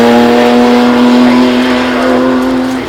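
A car accelerating up the Shelsley Walsh hill climb during the Gumball 3000 2024, a loud, close engine roar holding a steady high drone that eases slightly toward the end.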